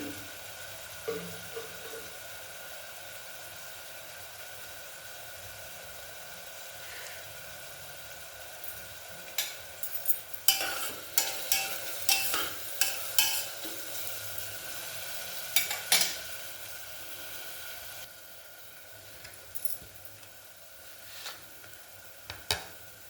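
Onions sautéing with turmeric and salt for mutton keema curry, a steady soft sizzle with clusters of sharp scraping stir clicks from a spatula against the pan in the middle stretch, no voices.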